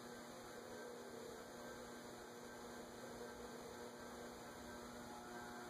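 Dayton industrial ceiling fan running at speed in a garage, a steady faint motor hum with a constant airy whoosh, unbroken for the whole stretch.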